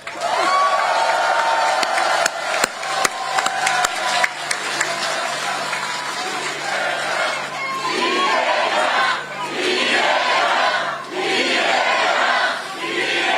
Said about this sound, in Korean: 옆을 돌아보면서 박수 한번 쳐주세요